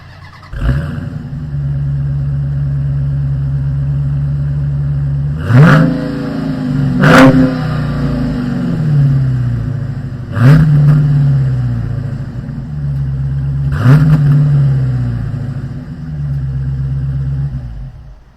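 A 2021 Dodge Challenger R/T Scatpack Widebody V8 starts with a loud rumble, settles into a deep steady idle, then gets four sharp throttle blips that roar up and fall back, recorded close up with nobody talking.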